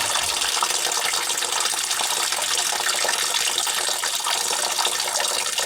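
Water gushing and gurgling steadily out of household plumbing being drained for winterizing, a continuous close rushing flow with no pause.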